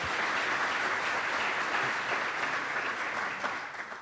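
Audience applauding after a candidate's statement at a Preston first selectman debate, a broad, sustained wash of clapping from a room full of people that tapers slightly at the end.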